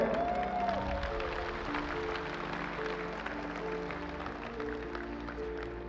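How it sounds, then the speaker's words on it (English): An audience at a large global event applauds steadily, a broad wash of clapping that holds at an even level throughout, with a soft musical tone running underneath. "Huge applause for this man."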